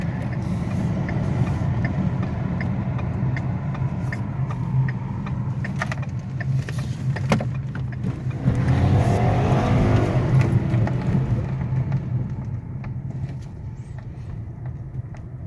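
A 2013 Ford Taurus Police Interceptor sedan, all-wheel drive with a twin-turbo EcoBoost engine, accelerates hard at high altitude, its engine note rising and swelling to a loud peak midway before easing off, heard from inside the car.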